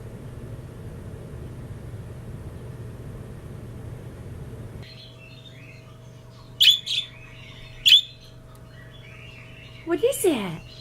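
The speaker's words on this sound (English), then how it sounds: "Where are those birdies?" Pet budgies give a few sharp, separate chirps over a steady low hum indoors. A last burst of tweets comes near the end.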